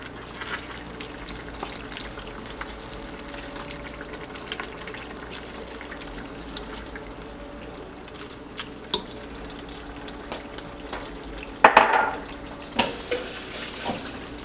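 Codfish goes into a pan of frying vegetables, with a steady low sizzle throughout and a brief louder burst of crackling and stirring near the end. No one speaks.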